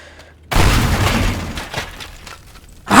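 A pipe bomb or banana bomb goes off in the Teardown video game: one loud, sudden blast that rumbles and crackles as it fades, then a second burst starts at the very end.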